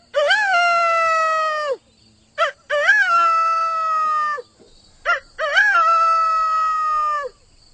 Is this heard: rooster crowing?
yes